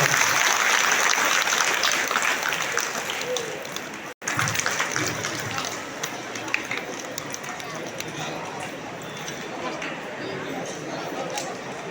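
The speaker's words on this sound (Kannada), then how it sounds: "ಎಲ್ಲರೂ ಚಪ್ಪಾಳೆ ಮೂಲಕ ಧನ್ಯವಾದ." A crowd at a Satyanarayana puja marking the end of a third-year padayatra breaks into sustained, dense clapping. The applause is loud and continuous for about twelve seconds, with voices talking underneath it.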